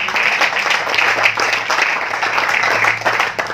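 Church congregation clapping and cheering together during a sermon, a steady dense wash of hands with a low sustained tone beneath, continuous and fairly loud.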